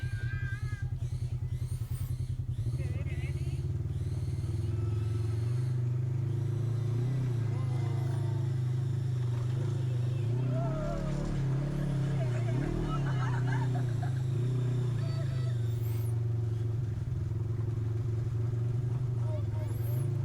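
A side-by-side off-road vehicle on the Broken Arrow trail in Sedona, Arizona, drones with a steady low engine hum at close range, while a voice talks intermittently over it.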